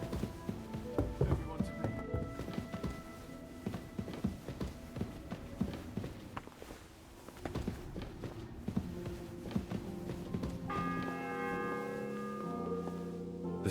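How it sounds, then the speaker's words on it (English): Church bell in Kingdom Come Deliverance 2, tolling tones amid busy footsteps and clopping hooves, with a sustained ringing bell tone rising clearly near the end over the bustle. "The seventh bell."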